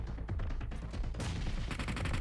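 Dense, continuous gunfire from a PUBG Mobile match, rapid overlapping shots filling the whole stretch and growing heavier and steadier toward the end.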